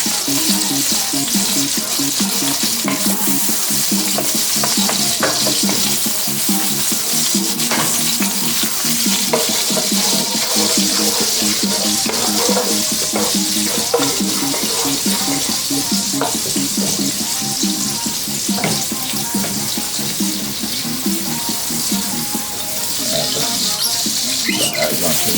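Scallion and garlic stir-fry in a hot pan for a Jamaican curry shrimp dish, a steady loud sizzle with constant scraping and stirring throughout, and no talking.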